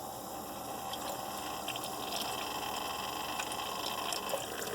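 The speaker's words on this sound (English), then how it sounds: "See a lot of water coming out of that right side vent, some water dribbling out of here." Water dribbles and spills from the right-side reservoir vent of a Keurig coffee maker during brewing, a steady close hiss of running liquid with faint splashing and no voices.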